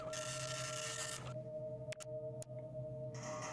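A printer running in a sci-fi space game gives a steady mechanical whir with a constant hum, then drops to a quieter tonal drone broken by a few sharp clicks before the whirring returns. No one speaks.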